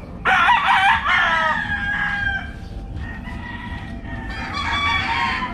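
A 4-month-old Golden Boy gamefowl cockerel crows close by, one strained, drawn-out call followed by a second quieter, rougher crow, with faint background noise and no talking.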